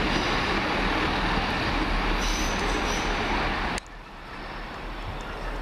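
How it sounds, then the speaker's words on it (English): Chiltern Railways train at London Marylebone station, a loud, steady roar of rolling stock with wheel squeal and rumble that cuts off abruptly near the end, leaving quieter station ambience. "Next out, the 1824 Chiltern Railway service to Prince's Risborough"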